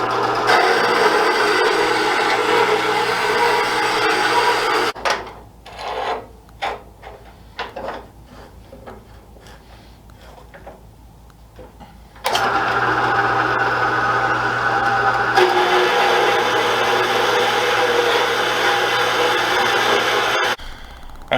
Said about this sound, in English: Central Machinery horizontal vertical metal cutting bandsaw